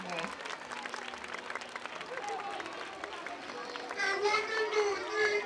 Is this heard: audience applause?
yes